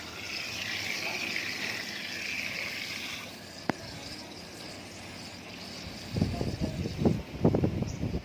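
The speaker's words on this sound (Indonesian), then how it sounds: "Kita bilas dengan air mengalir." Steady hiss of running water from a tap, with a sharp click partway through and louder splashing bursts near the end as soapy hands are rinsed under the flow.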